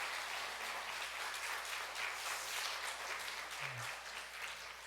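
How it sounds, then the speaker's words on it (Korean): Steady applause from a church congregation during a Sunday worship service, a dense, even wash of clapping that holds for several seconds without a break. "다시 한번 큰 박수 보내주시기 바랍니다"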